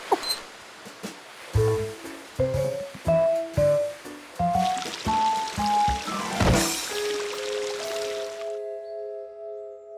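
Water pours and splashes in a cartoon scene, a broad gushing burst rising mid-clip between bright plucked musical notes and fading as a sustained tone takes over.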